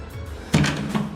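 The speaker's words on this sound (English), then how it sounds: "Close the door." A house door swings shut with a single close, solid thud, followed by a low lingering room rumble.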